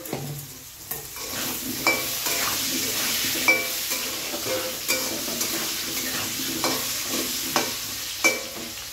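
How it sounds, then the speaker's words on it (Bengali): Potatoes frying in oil with salt and turmeric for an enchor-prawn dish, a steady close sizzle broken by regular spatula scrapes and clinks against the pan, no one speaking. "দিয়ে ভালো করে আলুটাকে একটু লাল লাল করে ভেজে নেব।"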